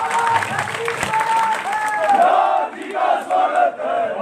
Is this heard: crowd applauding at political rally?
yes